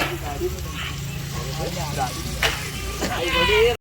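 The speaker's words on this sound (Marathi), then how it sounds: "आता याच्यात कांदा टाकलेला आहे मस्त की कांदा फ्राय होता एकदम" Onion frying in a pot on a wood-fired chulha stove at an outdoor chicken-and-rice party, giving a steady low sizzle throughout with a few brief clatters and a sharp knock near the end, while voices talk over it.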